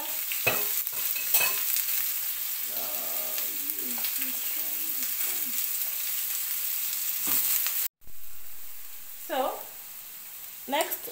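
Onions frying in sunflower oil for a meatball stew, a steady sizzle with occasional stirring clacks, a brief cut near the middle, and a voice speaking over it in places.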